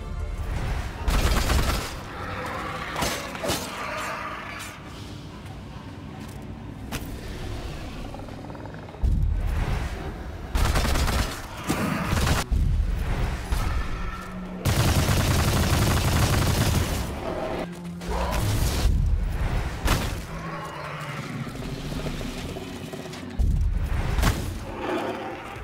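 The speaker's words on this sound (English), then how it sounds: "The first assault rifle that you have will spit out a bunch of shots for its special move" An assault rifle's special shot fires in the action game Immortal: Unchained, producing loud bursts of rapid gunfire and booming impacts that come in several clusters separated by quieter gaps.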